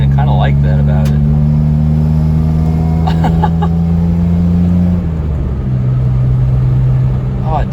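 A Geo Metro fitted with an Evil Energy exhaust, its engine giving a loud, steady, buzzy drone with a slight rattle, then dropping in pitch partway through as the revs fall.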